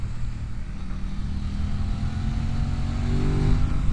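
A 2026 Aprilia RS660 Factory's 659cc parallel-twin engine hums steadily at moderate distance while riding on the road, its pitch rising gradually as it revs up toward the end.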